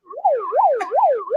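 A siren wails in rising and falling sweeps, repeating about three times in under two seconds, loud and alone with no other sounds.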